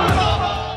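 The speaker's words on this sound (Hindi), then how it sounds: "चारों तरफ भीड़ के नारों की गूंज।" A large crowd in the street at night, a dense roar of many voices chanting together, loud and continuous for a brief moment.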